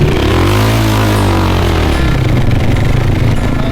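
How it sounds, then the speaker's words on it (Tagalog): A motorcycle labors up a steep, rough, remote hill, its engine droning loud and close with a pitch that sags and then steadies under strain. "kawawa tuloy yung motor ni Kuya. Pilit na lumalaban."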